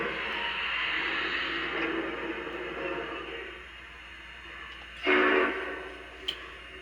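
A locomotive running with a steady mechanical rumble and hiss, followed by a brief louder burst of noise near the end.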